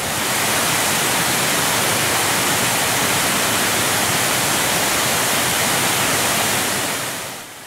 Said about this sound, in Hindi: रेणुका जी मंदिर के पहुंच मार्ग के बीच में एक विशालकाय झरना बहता है